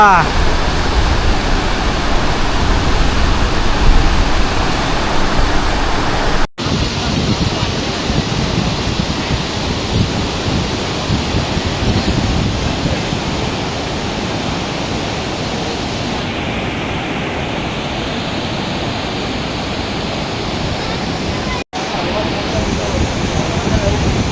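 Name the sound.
Marleshwar waterfall roaring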